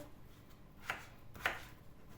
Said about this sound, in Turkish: ben patatesleri çok büyük doğramıyorum arkadaşlar